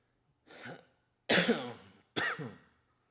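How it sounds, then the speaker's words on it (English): Three rough coughs in a row, each a short harsh burst with a brief pause between, close and fairly loud. "I'm so fucking over this cough that won't go away."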